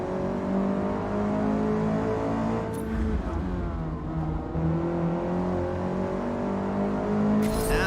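A race car engine in the Forza Motorsport racing video game drones loudly and steadily from the in-car view, its pitch shifting as it revs and holds throughout.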